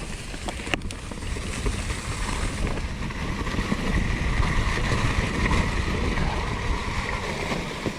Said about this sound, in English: This creek crossing is going to be.